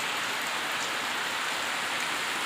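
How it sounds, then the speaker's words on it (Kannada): Steady, dense patter of heavy monsoon rain on a cold day, a continuous hiss filling the scene close by with no voices. "ಚಳಿ ಚಳಿ ಮಳೆ"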